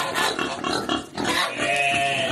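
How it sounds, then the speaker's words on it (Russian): A young boar grunts up close, a run of loud, rough grunts and snorts with a brief pause midway before it carries on. "Хрячок."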